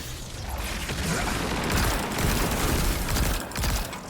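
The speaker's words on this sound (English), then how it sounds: "It fires multiple pulses of ammunition at your target." A pulse rifle fires in the Destiny 2 video game, giving a dense, continuous clatter of mechanical bursts and rattling impacts that sound loud and close throughout, with no talk.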